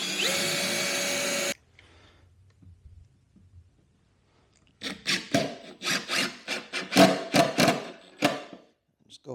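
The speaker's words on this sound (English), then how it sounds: "Just gonna drill one here in the middle." A power drill whirs in a few short bursts while drilling a hole, then goes quiet, followed by a run of scraping, grinding pulses close by.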